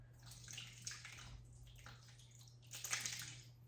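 Apple cider vinegar poured through a nut bag set inside a colander, giving a soft, uneven splashing and trickling of liquid in bursts, with a steady low hum underneath and no talking.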